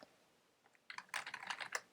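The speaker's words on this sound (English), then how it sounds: "we can start typing" Typing on a computer keyboard: a quiet start, then a close, busy flurry of quick keystrokes clattering for the last second or so.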